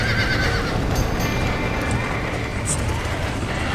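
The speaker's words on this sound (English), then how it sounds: "Now get the horses out!" Horses neigh and whinny in a barn in the Red Dead Redemption video game, with hoof clatter amid dense, loud game background noise that continues for the whole stretch.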